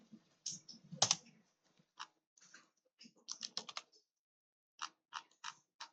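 Keystrokes on a computer keyboard while text is entered in Microsoft Word, arriving as irregular bursts and short clusters of taps with pauses between, fairly close and clear, with no voices.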